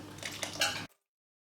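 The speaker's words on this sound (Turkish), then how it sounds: "Şimdi çorbama ilave edebilirim sosumu ama bir yandan da karıştırıyorum." Spoon clinks against a pot while warm yogurt sauce is stirred into wheat yayla soup, several quick metallic taps and scrapes, close and clear, then an abrupt stop.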